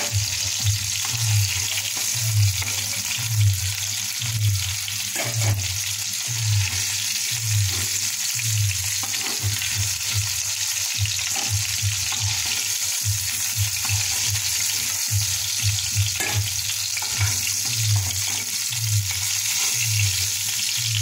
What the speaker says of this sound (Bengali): মাছগুলো হালকা হালকা ভাজা হয়ে গেছে